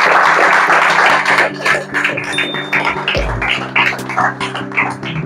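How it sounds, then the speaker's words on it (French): An audience at a French student project defense for an automatic gate prototype applauds, with dense, fairly loud clapping that thins into scattered claps over a steady tonal hum. "je souhaite qu'on applaudisse également pour elle"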